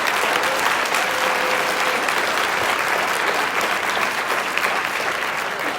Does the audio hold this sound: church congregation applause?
yes